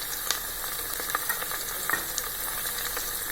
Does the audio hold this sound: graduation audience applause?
no